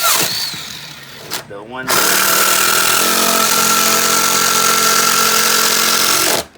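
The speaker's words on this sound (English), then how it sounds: "these 2x4s that I'm drilling through are probably 20 years old" Power drill boring through old, dry, hard 20-year-old 2x4 lumber, a loud steady whine that starts around the two-second mark and runs continuously for several seconds after brief talk and handling noise.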